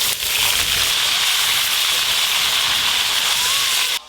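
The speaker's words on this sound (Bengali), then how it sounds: "এবার এইগুলো সব একসঙ্গে ভেজে নেব।" Pieces of a large katla fish fry together in hot oil, giving a loud, continuous, dense sizzling hiss that holds steady throughout and cuts off sharply at the very end.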